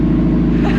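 A turbocharged Honda S2000 with a new differential runs on a lift, giving a brief, loud, steady low engine drone with a rumbling, even pulse.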